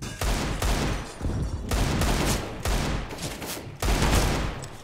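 Gunfire in a first-person shooter video game comes as loud, rapid bursts of shots, repeated in clusters separated by brief pauses.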